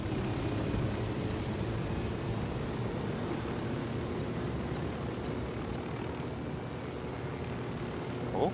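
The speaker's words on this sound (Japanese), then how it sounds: "ヘリ使おう。" Helicopter in the video game Ghost Recon Wildlands, a steady low rotor and engine drone holding evenly throughout, with a brief bump near the end.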